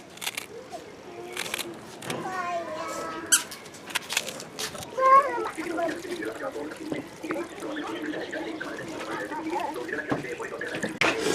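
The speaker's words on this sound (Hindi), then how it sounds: "इसको धो लेंगे ताकि इसमें जो मिट्टी वगैरह लगी है वो अच्छी तरह से साफ़ हो जाए।" Mustard greens being washed by hand in water in a home kitchen, intermittent splashing and sloshing with squeaky rubbing of leaves, close by, while people talk throughout.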